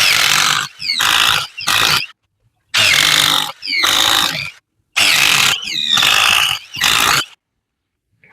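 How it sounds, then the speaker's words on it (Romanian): A cordless Parkside or Ingco power drill bores holes into a new wooden beam in about six loud, whirring bursts, each a second or so long, separated by short silent gaps. "am făcut rost de o gată de lemn nouă și am să fac din start 4 găuri"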